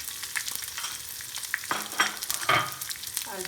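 Chopped onions sauté in a pan with red chilies over a lowered flame for a Kerala chutney, giving a steady close sizzle broken by scraping stirs.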